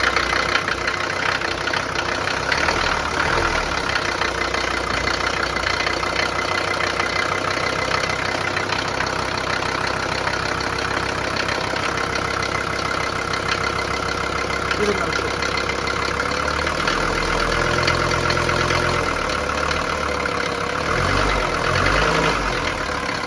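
A 1977 Mercedes-Benz W123 300D diesel with a manual gearbox idles steadily up close, its low knocking clatter running throughout, with a brief change in engine tone partway through.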